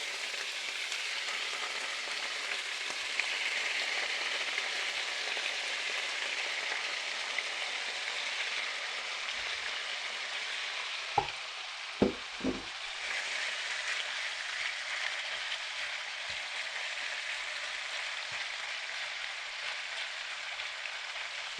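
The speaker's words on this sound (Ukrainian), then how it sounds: "зараз все це розмішаємо і лишаємо підсмажуватися" Chicken fillet and semolina sizzle in a frying pan, a steady broadband crackle with a few sharp utensil clicks near the middle.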